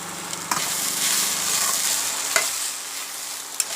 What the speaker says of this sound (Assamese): নিমখ দি অকণ লৰাই দিব